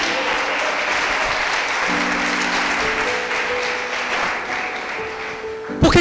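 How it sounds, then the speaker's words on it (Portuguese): A church congregation at an anniversary service breaks into strong, sustained applause that fills the room, with some voices faintly mixed under the clapping. "Dá uma salva de palmas aí, irmãos, bem forte."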